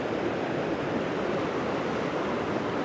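Winterbrook Falls in Tasmania, flowing around a bend, gives a steady broadband rush of falling water that stays even and unbroken throughout, with no voices.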